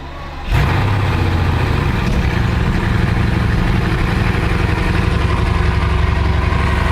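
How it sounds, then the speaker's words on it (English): A Bugatti engine starts with a sudden loud burst, then runs steadily at a rough, throbbing idle with a slight misfire, close and continuous without any talk. "The engine starts."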